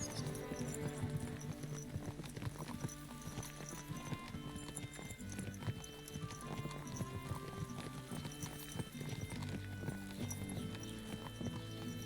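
Horse hooves clip-clop steadily in Kingdom Come Deliverance II, a continuous quick rhythm of hoof strikes over a busy game soundscape with music and ambient noise.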